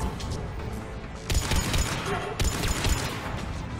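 Mass Effect 3 combat: dense rapid gunfire crackles in continuous bursts, with sharper loud surges that could be a grenade blast mid-fight.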